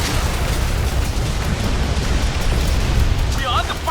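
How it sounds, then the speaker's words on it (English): Weapons fire in the Transformers: Revenge of the Fallen video game, a dense continuous barrage of crackling blasts and rumbling impacts throughout, loud and close, with no pauses. "They have armed their weapons and are firing."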